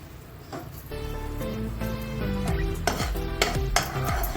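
A spoon stirs sesame seeds into a melted jaggery-style mixture in a pan for sesame laddoo and vadi, making soft scraping and clinking, close but partly buried under steady background music.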